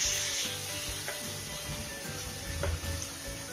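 Garlic paste fries gently in a pan with cardamom and cloves over low heat, a soft steady sizzle broken by a few faint scrapes of stirring, close but quiet.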